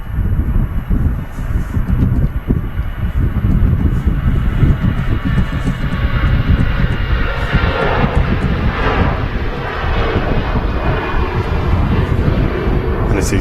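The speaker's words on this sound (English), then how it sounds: "And it's EasyJet on the roll to Jersey." An EasyJet airliner rolls for takeoff to Jersey at Manchester Airport, a loud sustained jet roar rumbling steadily from a distance with wind buffeting the microphone.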